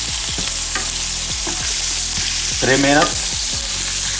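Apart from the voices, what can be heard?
oxtail searing in a pan over high heat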